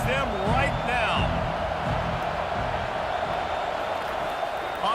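A stadium crowd in the video game College Football 25 roars steadily throughout, dense and broad, with whistles and shouts rising above it and commentators talking over the noise.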